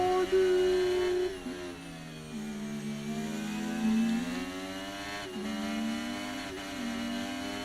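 A turbocharged Formula 1 car in F1 2023 drones steadily at high pitch, its engine note rising and dipping with gear changes and throttle over several seconds, close and continuous.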